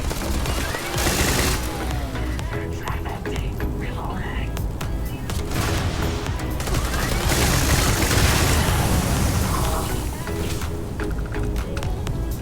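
Repeated sharp shots from the X989 gun in the video game Starfield, rapid cracking bursts with booming tails over several seconds, mixed with other in-game noise and occasional talk.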